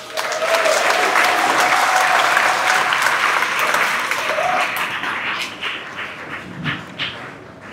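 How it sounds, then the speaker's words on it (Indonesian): Sustained applause from a large crowd of students and teachers at a school flag-raising ceremony in Jakarta, loud and dense from the start, then gradually thinning with scattered claps toward the end. "Tepuk tanganlah."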